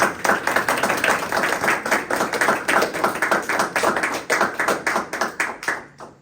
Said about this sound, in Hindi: इनकी इज़्ज़त अफजाई के लिए ज़ोरदार तालियां बजाएं